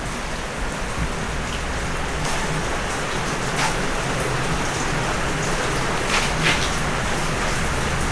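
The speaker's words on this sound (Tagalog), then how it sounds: "Grabe ulan, walang tigil." Heavy rain pouring steadily, a dense continuous hiss of drops hitting surfaces with no pauses and no voices.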